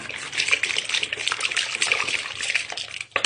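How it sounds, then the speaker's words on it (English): Liquid poured from bottles onto bare feet, a continuous close trickling and splashing stream that runs steadily before cutting off near the end, with no talk. "Just going to want to pour them on your feet, like really soak it in there."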